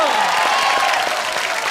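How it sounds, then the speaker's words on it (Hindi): A studio audience at a Hindi comedy show applauds loudly and continuously, dense clapping mixed with crowd noise and a voice talking or calling out over it. "धर्म जी के लिए जोरदार तालियां हो जाए।"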